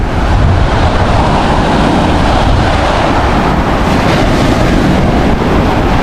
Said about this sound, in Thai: ลมยังแรงนะครับ